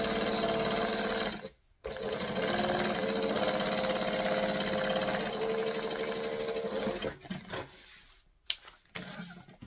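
Sewing machine stitching a beach bag panel, a steady fast mechanical whir running for several seconds, briefly stopping, then resuming and ending in short stop-start bursts with a sharp click.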